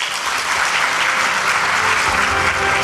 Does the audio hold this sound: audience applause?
yes